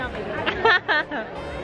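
At Disneyland during the holiday season, a dense crowd babbles with many overlapping voices, and one nearer voice rises briefly above the steady hubbub.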